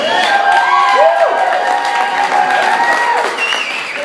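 An audience at a comedy show breaks into applause mixed with cheers and high whoops, loud and continuous for several seconds, with voices rising and falling over the clapping.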